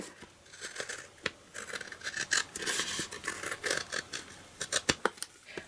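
Scissors cutting card for a stamped greeting card, a quick run of crisp snips and scraping slices, close and fairly quiet, with no voices.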